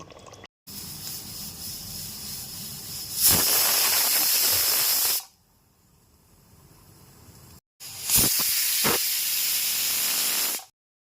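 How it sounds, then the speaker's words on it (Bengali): A pressure cooker holding mutton lets off loud rushing steam in two long hissing bursts, separated by a quieter stretch and short silent gaps, with a few sharp clicks in the second burst. "এবার এটা আমি দুটো সিটি দিয়ে নেব"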